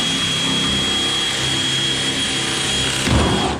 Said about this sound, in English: I'm drilling out this rivet hole right here.